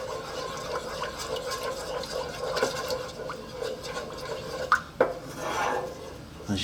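A wooden spoon stirs thickening sauce in a pan over low heat, making soft, continuous scraping and faint bubbling close by, with a couple of sharper knocks of the spoon against the pan.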